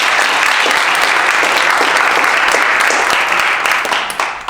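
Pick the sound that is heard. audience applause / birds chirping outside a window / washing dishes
audience applause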